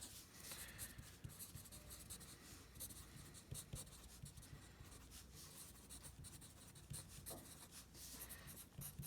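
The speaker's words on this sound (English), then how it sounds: "Let's write that down." Marker or chalk writing on a board during a parallel-circuit practice lesson, a faint continuous scratching and rubbing with short strokes, heard alone without talk.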